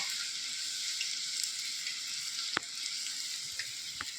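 Puri frying in hot oil, a continuous bright sizzle and crackle with a couple of sharp pops, close and fairly quiet with no talking.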